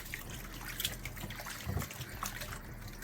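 Raw chicken wings rinsed under running water in a kitchen, a steady trickle and splash at moderate volume with a brief louder burst of spattering midway, no talking.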